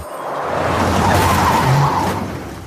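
A car drives along and skids to a stop as it turns into a parking lot, a continuous loud engine and tyre rush with a brief squeal near the middle, no voices over it.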